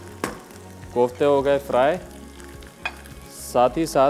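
Koftas fry in hot oil with a steady sizzle that runs under someone talking in Hindi-Urdu, the crackle staying low and continuous between his phrases.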